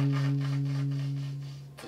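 A jazz saxophone held note played with a subtone embouchure, soft and breathy with airy hiss over a steady low tone, fading out after under two seconds.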